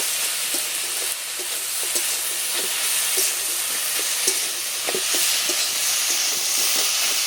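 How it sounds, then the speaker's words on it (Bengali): Taro flower curry sizzles steadily in a pan while a spoon repeatedly scrapes and mashes it, giving rhythmic soft taps over a constant close frying hiss. "এবারে এভাবে ঘেটে ঘেটে কচুর ফুলটাকে একেবারে ঘন্ট মতো করে নেব"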